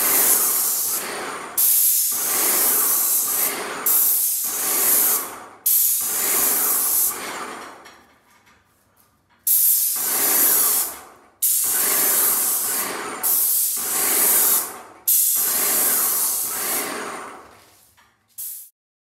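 Black intumescent ceiling paint sprayed overhead in a series of loud, close hissing bursts, each lasting one to two seconds with brief gaps between, the longer pauses falling silent.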